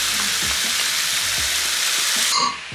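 Peppers and mushrooms sizzle steadily in a frying pan for a chicken crepe roll filling, a close, even hiss with a few soft stirring knocks, easing off near the end.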